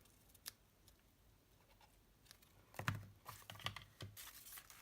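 Scissors snip through paper card in several short, close cuts, with light tapping and handling noises around them in an otherwise quiet space.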